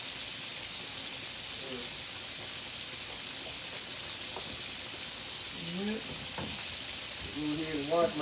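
Pork chop frying in a pan gives a steady, loud sizzle and crackle throughout, with faint voice-like murmurs and a slight swell in the last seconds.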